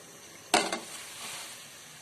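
Grated bottle gourd drops into a pot of boiling water, giving a sudden splashy burst followed by a softer second splash and then a quiet bubbling simmer.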